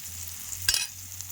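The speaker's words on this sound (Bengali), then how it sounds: "এই দেখুন আলু উস্তে আমি কি সুন্দর করে লাল লাল করে ভেজে নিয়েছি।" Potato and bitter gourd frying in a pan, a steady close sizzle with a brief louder stir or scrape in the middle.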